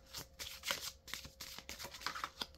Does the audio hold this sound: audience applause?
no